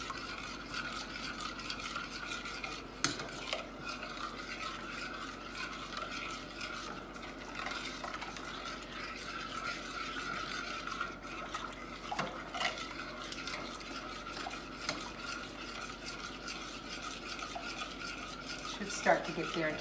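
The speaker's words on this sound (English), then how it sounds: "Keep stirring it so that it smooths out" A spoon stirring thickening béchamel sauce in a pot, with repeated scraping and occasional clinks against the metal, a steady close-up rhythm and no talking.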